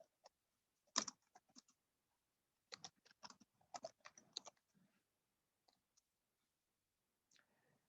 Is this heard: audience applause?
no